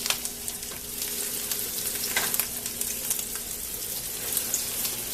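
Parmesan chicken fries in hot oil with a steady, crackling sizzle and scattered sharper pops, close by and fairly quiet, with no talking.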